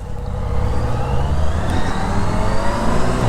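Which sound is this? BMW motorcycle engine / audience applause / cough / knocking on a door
BMW motorcycle engine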